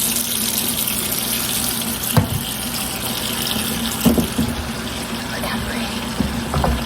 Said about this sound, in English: rinse this bowl out really well